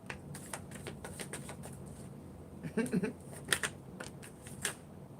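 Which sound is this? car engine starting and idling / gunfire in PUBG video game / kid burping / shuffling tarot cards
shuffling tarot cards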